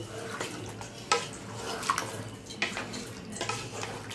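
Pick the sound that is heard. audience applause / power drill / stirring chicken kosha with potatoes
stirring chicken kosha with potatoes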